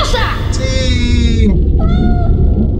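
A cartoonish cat in the Harry Potter and the Philosopher's Stone PS1 game meows twice in quick succession, a long drawn-out call followed by a shorter one, loud and close over a steady game soundscape.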